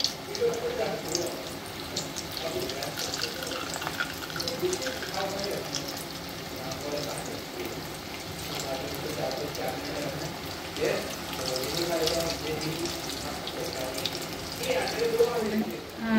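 Potato cheese balls deep frying in oil over a medium flame, a steady bubbling sizzle running throughout with scattered small pops and clinks, heard beneath intermittent talking.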